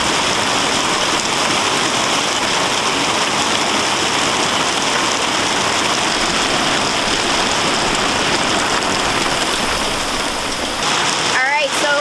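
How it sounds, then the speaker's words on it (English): Steady heavy rain from a torrential Florida downpour pours down continuously, a dense hiss of drops hitting surfaces close by, with a few faint high chirps near the end. "it is now a torrential downpour coming"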